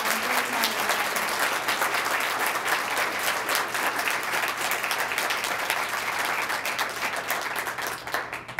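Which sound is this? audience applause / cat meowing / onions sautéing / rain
audience applause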